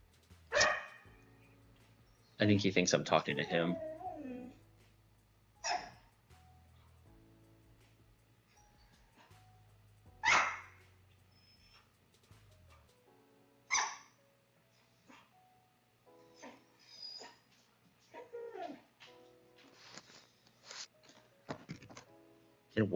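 A Samoyed named Booby barks in several loud, separate bursts, with a quick run of barks early on and more scattered yips and whimpers later, while a person talks quietly in between.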